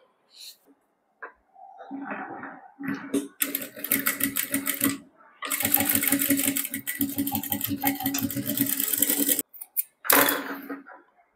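A sewing machine stitches the edges of an iron-pleated lehenga skirt in rapid rattling bursts with pauses between runs, while someone talks between and over the stitching.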